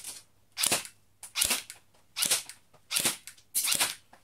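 Cyma electric airsoft Glock 18 firing on semi-automatic: six sharp, crisp snaps, each one separate, spaced roughly every half to three-quarters of a second, close by with quiet gaps between them.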